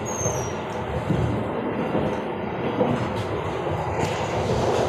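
Argo Dwipangga passenger train running at speed, a steady rolling rumble and rattle heard from inside the carriage, continuous and fairly loud with no talking.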